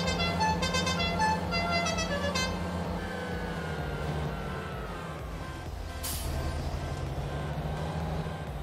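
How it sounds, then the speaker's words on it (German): A vehicle horn sounds in the farming game Landwirtschafts-Simulator 19, with a few short honks over a steady low engine rumble, followed by a longer tone that slides down in pitch and a hiss like an air brake. "Eine Hupe?"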